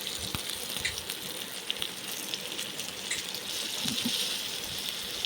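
Mixed lentils and long beans fry in a wok with a soft, steady sizzle and occasional stirring clinks, fairly quiet and close.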